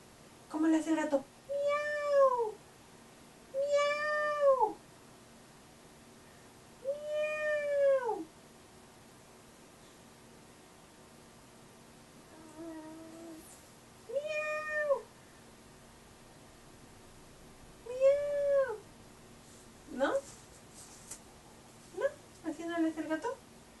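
A young child imitates a cat, giving a series of drawn-out, rising-and-falling meows with short pauses between them, close and clear, with an adult voice now and then.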